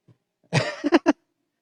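A person demonstrating a cough at a health talk on protective equipment and rapid testing: one drawn-out forceful cough followed by two short sharp coughs, close and clear in an otherwise quiet room.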